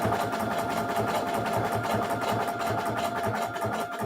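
A sewing machine runs steadily with a fresh bobbin in place, a rapid even mechanical chatter and hum that carries on without a break, close and moderately loud with no voices.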